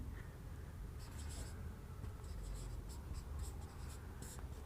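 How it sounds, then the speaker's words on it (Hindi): Pen scratching on paper as a civil engineering lecturer writes out notes on concrete strength, a steady run of short strokes and taps over a low room hum. "इसको लिखते हैं"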